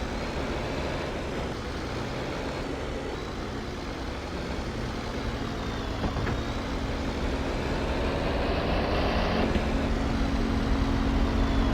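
A tractor engine in Farming Simulator 22 drones steadily at a low idle-like hum, moderately loud and continuous, with its pitch rising slightly toward the end.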